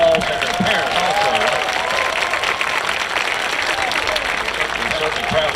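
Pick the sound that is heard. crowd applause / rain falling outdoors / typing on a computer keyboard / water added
crowd applause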